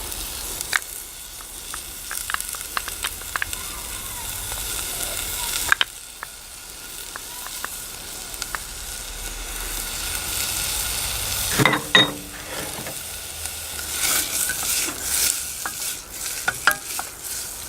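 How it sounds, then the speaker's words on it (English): Onions and garlic sautéing in a pan, a steady broadband sizzle with scattered clicks and scrapes of stirring throughout, a brief louder burst of clatter near the middle; no talking. "Saute these for a couple of minutes."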